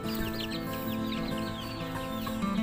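Serama bantam chickens cluck and chatter softly in a new coop, several birds making overlapping short calls over a steady low background hum, with no talking.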